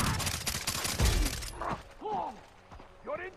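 Rapid gunfire bursts crackle loudly in the Far Cry video game for about a second and a half, then give way to quieter chirping and squeaking game ambience.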